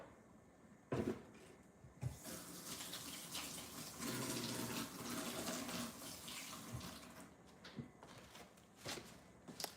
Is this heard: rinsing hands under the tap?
yes